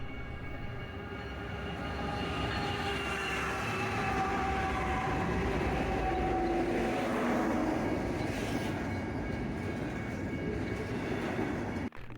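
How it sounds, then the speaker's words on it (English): In Flagstaff, Arizona, a train rolls past in a long, steady rumble with squealing wheel and rail tones, loud and continuous for over ten seconds before cutting off abruptly. "we got stopped by the train at Flagstaff as well."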